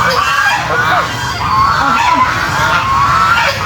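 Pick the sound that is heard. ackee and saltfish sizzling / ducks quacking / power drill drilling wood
ducks quacking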